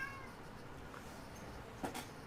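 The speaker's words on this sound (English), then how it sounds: "Cat's meowing at me for some reason." A cat meows briefly at moderate distance over a steady low background hum, a single short call standing out partway through.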